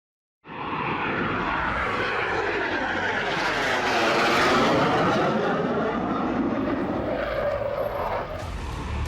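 Fighter jets such as the Jaguar and Mirage fly touch-and-go passes over a 3.5 km expressway airstrip during an air force show on the Ganga Expressway in Shahjahanpur, Uttar Pradesh. A loud, continuous engine roar swells and sweeps in pitch as a jet passes close.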